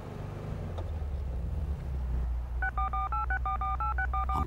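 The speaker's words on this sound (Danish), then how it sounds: "Han slår numret på mobiltelefonen hennes." Mobile phone keypad tones ring out in a quick run of about a dozen distinct beeps as a number is dialed, set over a steady low background rumble in an animated children's police car story.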